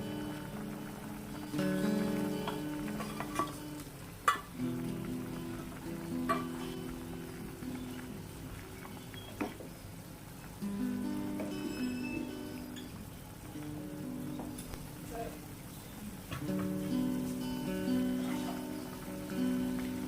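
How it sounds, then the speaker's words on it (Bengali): Helencha greens and small fried fish cook in a pan with a continuous gentle sizzle and crackle, punctuated by occasional clicks and scrapes of stirring, heard close and without voices. "মাছগুলো দিয়ে আরো পাঁচ মিনিট মতো জাল করে নেব"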